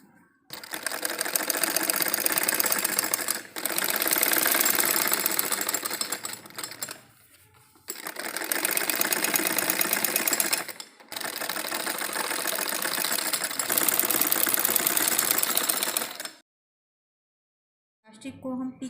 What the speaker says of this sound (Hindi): यहाँ पर हम किनारे किनारे पर सिलाई लगाएंगे ताकि हमारी इलास्टिक इस कपड़े में ना आए